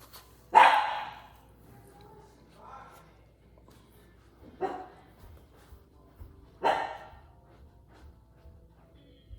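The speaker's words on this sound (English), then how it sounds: "What is she barking at?" A dog barks three times with long pauses between, fairly close, over a quiet room with faint murmuring in the gaps.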